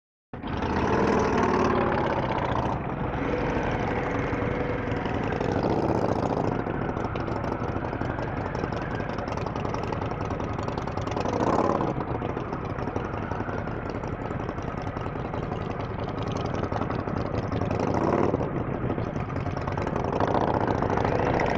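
A Harley-Davidson Pan America motorcycle fitted with a Vance Hines exhaust idles steadily up close, giving a continuous loud rumbling drone with small surges in the note and no voices over it.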